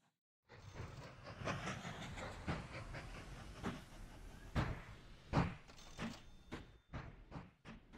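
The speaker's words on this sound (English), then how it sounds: "trains blasting round there" Trains running on rails in the Mashinky game, a string of rhythmic clacking and hissing bursts at moderate level, repeating irregularly over a low rumble.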